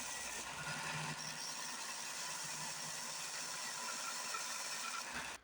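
A sander smooths all four feet of a small wooden piece, giving a faint, continuous grinding hum and rattle that holds steady for several seconds before stopping abruptly.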